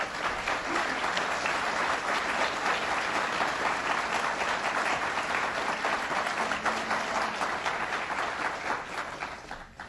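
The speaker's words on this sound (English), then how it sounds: "I'd ask the Assembly people and the senators to please stand, and let's give them a round of applause." An audience applauds Assembly members and senators at a New York State budget event, with dense, steady clapping that holds for the full stretch before fading slightly at the end.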